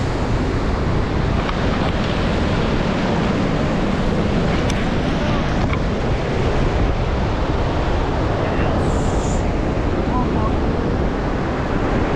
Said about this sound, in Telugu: సముద్రం అలలు ఇలా నా కాలు కింద వస్తుంది